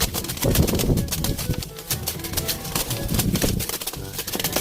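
Frightened pigeons in a cage flap and scramble in bursts of wing beats and fluttering, with cooing or calling, heard close up and fairly loud.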